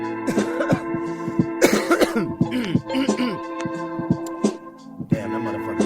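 Several rough coughs and throat clearing break through over a steady music backing with rhythmic beats.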